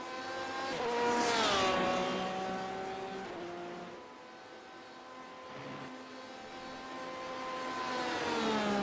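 A race car in a Le Mans racing video game roars through its gears, the engine pitch climbing and dropping as it accelerates and shifts, loud and continuous.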